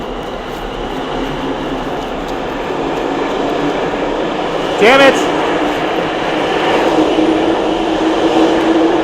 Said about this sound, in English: I just missed my train